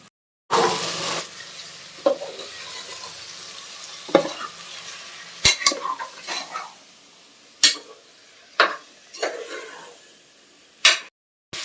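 Boiled goat tripe frying in a pan for boti curry, a low sizzle punctuated by several sharp scrapes and knocks of a spoon stirring, close and without speech, with brief silent gaps at the start and end.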